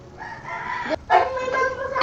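A rooster crows nearby, loud and drawn out, breaking briefly before carrying on in a strained, rising call.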